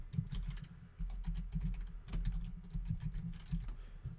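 Rapid, uneven keyboard typing at a computer during a Minecraft session, a steady run of close key clicks over a faint low hum, with no voices.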